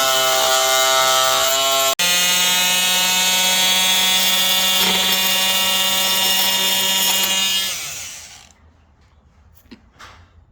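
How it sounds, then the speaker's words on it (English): A high-pitched power saw whines steadily as it cuts wood flush on a rocking chair, its tone holding strong before winding down and fading out, leaving quiet clicks. "take my saw and I will cut this flush"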